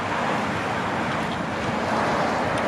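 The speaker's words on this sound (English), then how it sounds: "that's the M240 in motion right there." Steady road and wind noise from a moving BMW G42 M240, a constant rushing hum with no voices.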